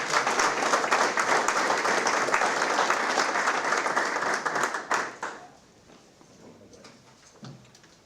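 Audience applause at a board of education meeting, a dense, steady burst of clapping for about five seconds that then drops sharply into quiet room tone with a few scattered claps.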